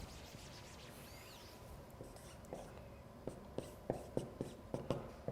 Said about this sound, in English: I'll write it down right here.